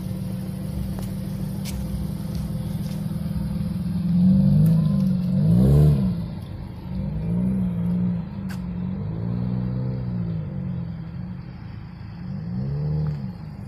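A Nissan Cube fitted with a modified, welded-on exhaust revs in several rising and falling bursts, a mid-pitched growl swelling loud and easing off between pulls, heard alone from a short distance.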